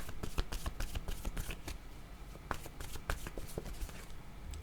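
A deck of tarot cards is shuffled before a card is drawn, a fast papery riffle of crisp flicks and rustles running steadily and close, with no voice over it.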